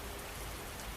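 Steady rain pouring down, a dense, even hiss of drops spattering on surfaces, constant and fairly close with no pauses or other sounds.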